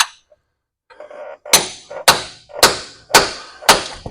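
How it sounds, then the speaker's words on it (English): Hard metallic strikes ring out in a steady series of five, a big hammer driving a chisel on a Mack Cruiseliner truck's wet line, each blow sharp and loud with a short ringing decay. "We got some chisel, horsepower. Oh, yeah. And the big hammer."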